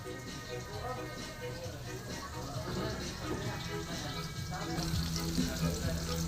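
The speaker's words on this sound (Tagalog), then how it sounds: "nagisa na tayo ng sibuyas bawang" Onion and garlic sauté in a pan with a constant dense sizzle, close and even throughout, and a touch of watery bubbling underneath. Faint voices murmur beneath the frying.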